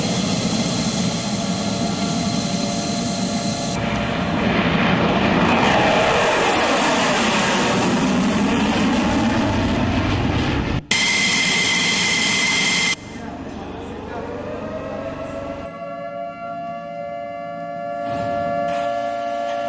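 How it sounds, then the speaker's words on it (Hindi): Israeli fighter jets roar with loud, sustained engine noise and shifting pitch, cutting abruptly between passes, with a lingering lower whine and tonal hum toward the end and a voice speaking at points. "इजराइल के लड़ाकू विमान उड़ान भरते हैं"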